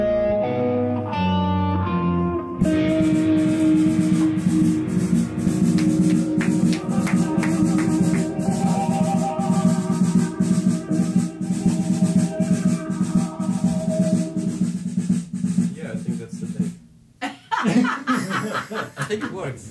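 The band's own recorded music played loud through studio wall speakers, filling the room continuously, with chuckling and talk from people nearby over it before it cuts off near the end.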